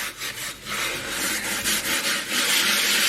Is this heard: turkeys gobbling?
no